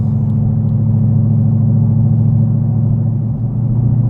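Mustang GT with a Flowmaster Scavenger exhaust and resonator delete cruising at highway speed, a steady low rumbling drone heard from inside the car, even and continuous with no talk.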